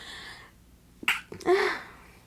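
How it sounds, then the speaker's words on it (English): A single sharp sneeze bursts out after a brief inhale, loud and close against an otherwise quiet room. "I had to sneeze"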